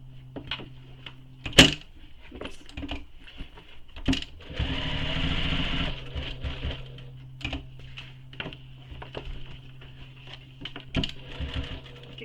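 Sewing machine stitching a backpack, bursts of rapid mechanical needle chatter, one long run in the middle, separated by clicks, thumps and handling of heavy fabric, close by.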